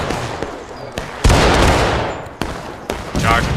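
Gunfire in a multiplayer video game battle at Railroad Cut, a few sharp loud shots and bursts over continuous noise, with a brief whistling tone near the end.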